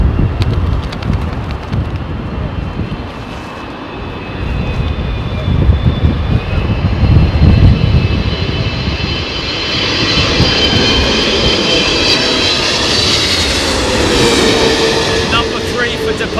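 A large airliner comes in to land in a crosswind at London Heathrow, its engine roar building into a loud, rushing whine that dominates the scene, with voices talking faintly underneath.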